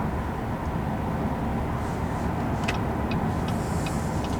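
A 2017 Chevy Volt on the road, heard from inside the cabin as a steady, smooth low rumble of tyre and road noise with a few faint clicks near the end, with no talking.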